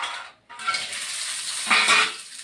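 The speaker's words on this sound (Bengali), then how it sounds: "বড়িগুলা ভেজে নেব" Lentil dumplings (bori) frying in oil in a kadai for a mutor shaak recipe give a steady, close hiss of sizzling, with a brief dip and a louder burst as they are stirred or moved.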